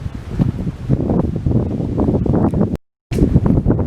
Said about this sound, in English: Rather windy, isn't it?